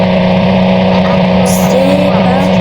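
Car engine steadily running in the Roblox game Berry Avenue, a constant loud drone with a brief higher hiss partway through.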